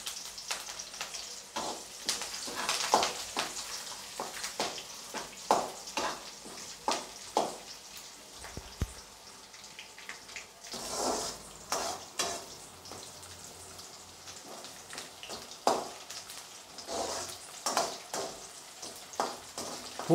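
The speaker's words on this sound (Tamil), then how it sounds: "பூண்டு நன்கு பொன்னிறம் ஆன பிறகு ஆகும் வரை நன்கு வதக்கவும்." Garlic and curry leaves fry in a pan for a stingray curry, a soft steady sizzle punctuated by frequent light stirring scrapes and taps, fairly quiet and close.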